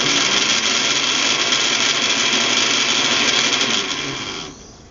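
A blender on its chop setting, powered through an inverter, runs with a loud, steady motor whine for several seconds before spinning down and stopping near the end.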